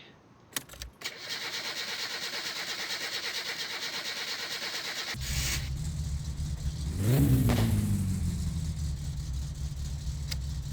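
A car engine in My Summer Car cranks over and catches about halfway through, revs up once, then settles into a steady, rumbling idle, preceded by a constant background hum.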